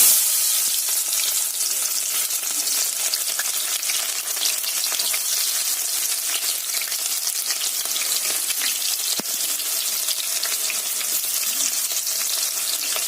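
Onions frying in oil inside a pressure cooker on a stove give a loud, dense, continuous sizzle that hardly changes for the whole stretch, heard alone with no talk.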